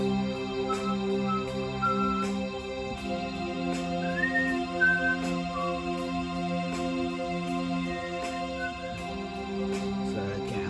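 Someone whistles a short wandering tune over a sustained, droning organ tone with regular soft clicks.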